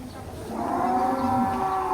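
A huge one-ton sacrificial cow moos at a busy cattle farm in Bogor, a single long, loud, drawn-out call close by.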